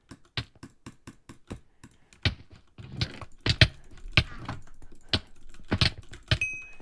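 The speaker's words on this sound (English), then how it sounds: "Oh, I actually killed him with jitter clicking." A gaming mouse is clicked in a rapid, evenly spaced burst of sharp clicks at close range, followed by irregular clicks and keyboard-like taps during gameplay.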